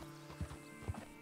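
Horse hooves in the video game Red Dead Redemption 2 land as two soft, low thuds about half a second apart, a slow walking clip-clop over a quiet game background.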